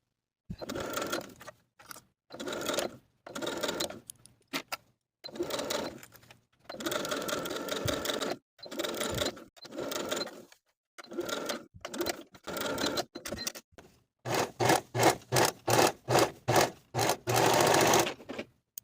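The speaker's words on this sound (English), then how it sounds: "Then we can sew the sleeve in place with a 5/8 inch seam allowance" A sewing machine stitches a sleeve into a vintage dress with a 5/8 inch seam, running in repeated short bursts separated by pauses, with the final runs faster and louder, close and alone.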